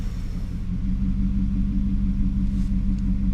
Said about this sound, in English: Let's fire up the car.